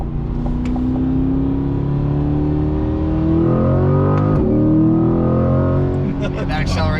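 A Porsche sports car accelerates hard, its engine note climbing steadily and loudly through several seconds of continuous revving, with a voice speaking over the roar.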